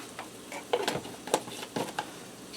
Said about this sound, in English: I'm going to allow this to saute for a few minutes till the shallots start to get translucent and tender